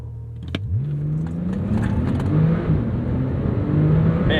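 A 2017 Porsche 911 Turbo S or 2017 Acura NSX engine revs up and accelerates hard, its pitch climbing steadily in a loud, continuous roar with no voices.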